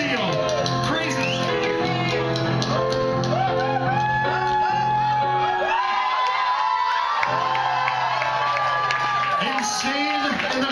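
A live show audience shouting and cheering in a loud, dense roar of many voices, whoops and high children's cries rising and falling over a steady backing tone that drops out briefly midway.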